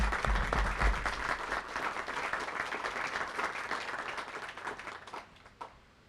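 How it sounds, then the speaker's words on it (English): A round of applause from the audience at a Kentucky governor's public update swells with dense, lively clapping, then tapers off and fades near the end. "How about a round of applause?"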